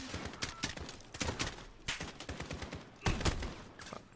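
Video game gunfire rattles in rapid bursts and fusillades, several sharp clustered volleys spread across the stretch at moderate loudness, with no talk over them.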